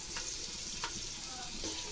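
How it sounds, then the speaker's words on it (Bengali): Spice masala frying in a pan while being prepared for biryani, a steady close sizzle with a few brief scraping stirs of a utensil, no voices. "মশলাটা ভাজা হোক"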